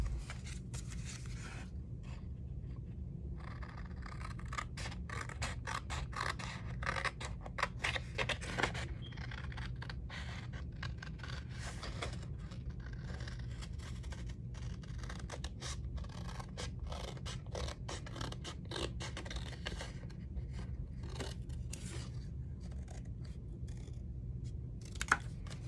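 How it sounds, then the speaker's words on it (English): Scissors cutting traced paper pieces for an envelope flipbook craft, many quick close snips and rustling paper scrapes in irregular bursts over a low steady hum. "cut the pieces of paper that we just traced"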